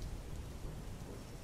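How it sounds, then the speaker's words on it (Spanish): A heavy thunderstorm with rain falling on bushes, a dense, steady hiss of downpour with low rumbling underneath, continuous and close throughout the short stretch. "¿Oyes cómo suena la lluvia sobre los matorrales?"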